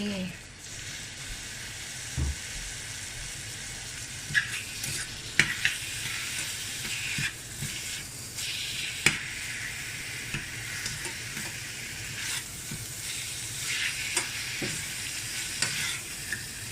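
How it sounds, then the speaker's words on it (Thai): Catfish larb stir-fries in a pan with a soft continuous sizzle, punctuated by scattered scraping and clanking from the stirring utensil, fairly quiet and close. "ผัดให้หอมสักนิดนึงนะคะ"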